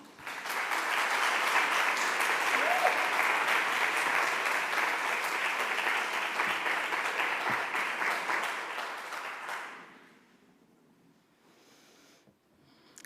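Applause from a conference audience welcoming a speaker to the stage, loud sustained clapping for about ten seconds that then fades out into near silence.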